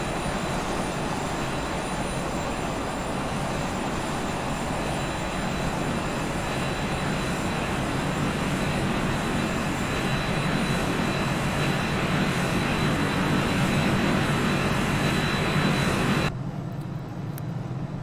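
Aircraft engine in the X-Plane 11 flight simulator, a steady loud broadband roar and whine that holds constant for many seconds before cutting off abruptly near the end, with no talking.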